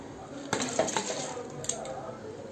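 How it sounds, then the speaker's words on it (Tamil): Rice tipped into a metal pot while cooking prawn biryani, giving a few brief rattling clinks and a short scatter of grains against the pot, with quiet kitchen background between. "அரிசி போட்டுக்கலாம்."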